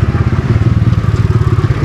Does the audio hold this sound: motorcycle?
yes